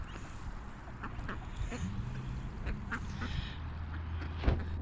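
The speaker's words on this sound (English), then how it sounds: "They start quacking as soon as they see my red car." Wild ducks quack repeatedly at dusk beside a parked car, a cluster of nasal calls close by over a low outdoor hum, one louder burst near the end.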